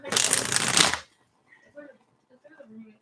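Tarot cards are shuffled in one quick, close riffling burst lasting about a second, followed by quiet and faint soft sounds.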